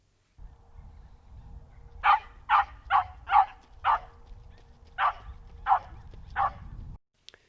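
A dog barks eight times in a steady series of sharp, fairly close barks over a low background hum, with no one talking.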